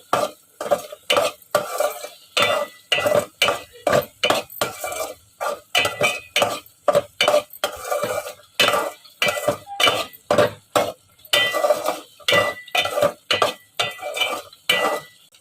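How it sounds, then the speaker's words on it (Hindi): Milk and sugar mixture from spoiled milk roasting in desi ghee in a pot, stirred steadily with a metal spoon, giving repeated close scraping and clinking strokes in an even rhythm with a faint sizzle. "घी डालने के बाद मैं इसे अच्छे से भुनाई कर लेती हूँ।"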